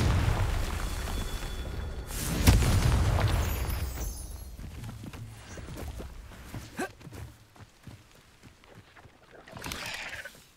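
A Confringo fire spell goes off in Hogwarts Legacy: one loud, close boom with a burst of crackling debris. It fades into scattered rumbles and footsteps, and a softer blast follows near the end.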